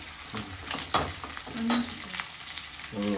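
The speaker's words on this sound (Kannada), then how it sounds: "ಮೆಣಸಿನ್ಕಾಯಿ ಹಾಕೊಂಡು ಇದು ಫ್ರೈ ಆಗ್ತಾ ಇದೆ" Green chillies fry lightly in oil for a home-cooked chicken sambar, giving a steady close sizzle with a few stirring scrapes and clinks, alone without voices.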